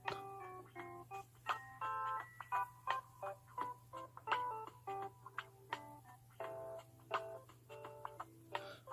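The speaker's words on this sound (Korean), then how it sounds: "안 되겠다. 전화해봐야겠다." A phone keypad beeps through a long run of dialing tones in short bursts of varied pitch, then carries on over a steady low hum, quiet and close, with no talk.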